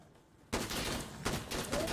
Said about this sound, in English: I'm shooting like a prick here